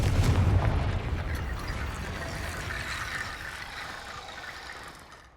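A Confringo spell explosion in Hogwarts Legacy, one deep booming blast up front that rumbles and slowly fades away over several seconds, with no voices.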